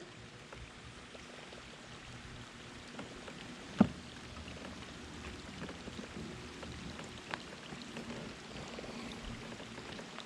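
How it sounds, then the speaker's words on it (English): Light rain patters steadily and faintly on the surface of a pond during a fishing trip, a soft continuous hiss with one or two sharper drops standing out. "Wasn't expecting a whole lot of rain in the forecast."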